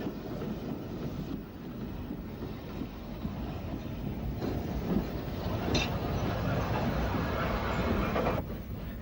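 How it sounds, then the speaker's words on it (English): A train runs on the Isle of Wight line between Ventnor and Ryde, giving a steady rumbling roll over the rails with a few faint clicks and squeals, and a voice briefly speaks over it. "We will head back to Ryde, crossing another Ventnor train en route."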